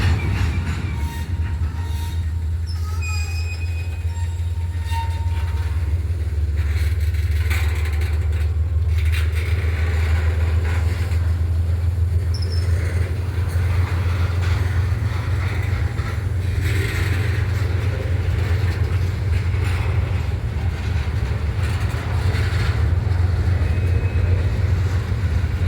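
A train backs slowly into a siding close by, with a steady heavy low rumble broken by occasional wheel squeals and metallic clanks. No one speaks.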